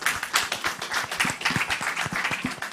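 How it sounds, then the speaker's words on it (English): Audience applause for the panelists at the close of a debate event, a steady wash of many hands clapping with dense overlapping slaps throughout, fairly close and moderately loud, with no speech. "So I want everyone to just give a round of applause for our panelists,"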